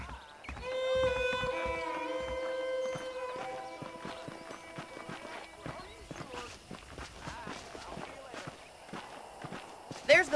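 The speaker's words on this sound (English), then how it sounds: "The horses are saddled up over here." Horses walk with rhythmic clip-clop hooves in the Western video game Red Dead Redemption, the hoofbeats steady and fairly close after a tonal musical passage, with a voice speaking over the opening.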